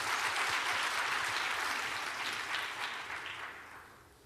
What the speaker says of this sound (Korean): 다시 한 번의 뜨거운 박수로 격려하겠습니다